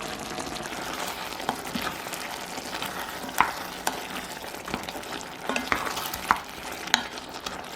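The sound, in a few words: stirring bay leaves, basil and chili powder into pot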